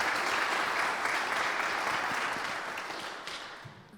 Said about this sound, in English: one more time, a hand clap for our panelists who took time out of their schedule to be with us on tonight